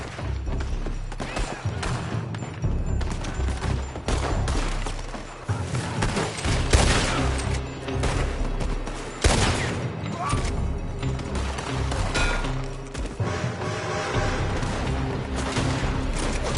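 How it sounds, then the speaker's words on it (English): Video game gunfire coming from a building is heard as sustained volleys of shots and booms layered over a loud, busy battle mix, with no pauses throughout. "They're shooting from that building."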